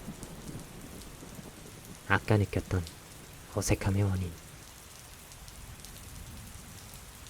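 Steady rain patters on surfaces on a rainy day, a dense even hiss running throughout while a voice speaks briefly over it; any distant thunder is not clearly separate.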